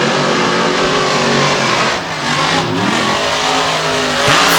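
Drag racing cars Stinger Unleashed and Saigon Shaker, metal shop chassis, accelerate down the strip in a Renegade Round Up final, a loud sustained engine roar with rising and falling pitch throughout.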